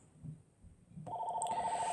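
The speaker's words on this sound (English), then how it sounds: "And there's the phone." A telephone rings abruptly partway through, a steady electronic trill that starts and continues loudly after a brief stretch of low background rumble, with no talk over it.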